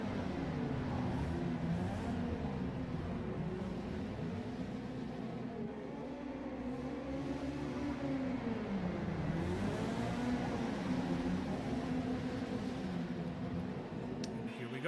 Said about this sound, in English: Accelerating and green flag back in the air.